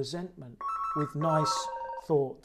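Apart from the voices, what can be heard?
mobile phone ringing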